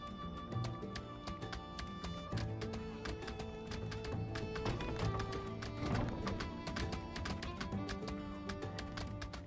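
Yakmel hooves clip-clopping steadily in the desert-town game My Time at Sandrock, a rapid rhythmic trotting patter under background music.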